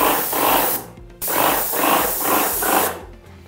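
Wagner Control 150 M airless paint sprayer hisses in several loud, close bursts of fine spray, broken by short gaps between strokes, with no talking.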